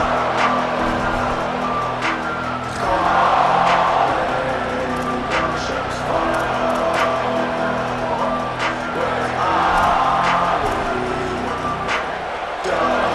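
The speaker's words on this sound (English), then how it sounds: "This crowd trying to show them what it's going to be like all day in this house." Stadium crowd in the EA Sports College Football 27 video game roars in a steady wash, swelling in waves beneath continuous play-by-play commentary.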